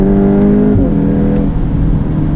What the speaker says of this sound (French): je trouve qu'elle fait même un peu plus de bruit que la Golf R